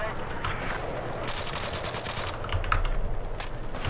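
Rapid automatic gunfire from crouch firing in the PC game Battlefield 4, bursts of sharp shots repeating across the moment, with a heavier stretch of fire toward the end.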